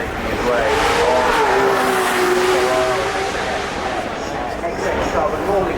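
A Le Mans hypercar in race livery climbing the Goodwood Festival of Speed hillclimb, its engine a loud sustained roar with a rising and falling whine. A commentator talks over it throughout.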